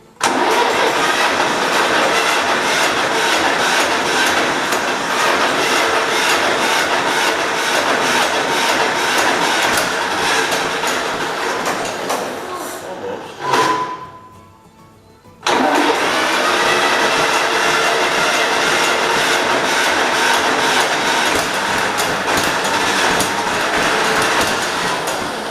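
A 1947 John Deere B tractor engine is cranked in a long attempt to start it, making a loud, continuous rattling chug that stops briefly, drops to near quiet, then resumes just as loud until the end.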